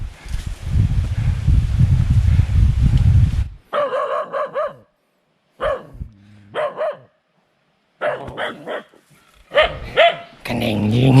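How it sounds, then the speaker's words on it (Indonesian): A dog barks in repeated short bursts on a mountain hiking trail up Mount Manglayang, with loud, close barks separated by brief pauses and louder rustling noise at the start. "Si anjing menggonggong."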